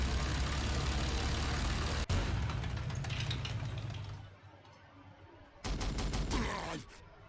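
Rapid bursts of gunfire in Warhammer 40,000: Sanctus Reach, a steady dense barrage over a low engine-like rumble that drops away, then a short sharp volley of several cracks near the end, with no talk.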